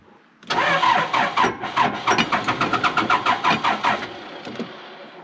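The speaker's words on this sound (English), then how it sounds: "All right, come on and crank up, Backhoe." A backhoe engine cranks in a fast rhythmic chug of starter strokes, loud and close, then tapers as it tries to catch and settle.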